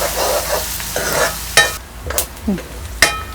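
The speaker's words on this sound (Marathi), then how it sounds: "एक दोन मिनटं आपण हे चांगलंसं कांदा परतून घेऊया" Onion sautéing in a pan for chavali bhaji: steady frying sizzle broken by several sharp scrapes and clacks of a spoon stirring against the pan, close and fairly loud, with no talk.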